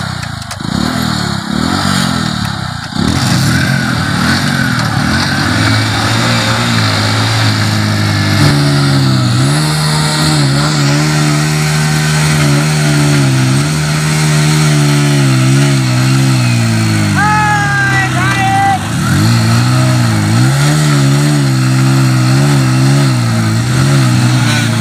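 A motorcycle engine strains and revs hard while towing two other bikes by rope, loud and close, its pitch rising and falling in repeated surges over a constant rumble, with one brief high squeal partway through.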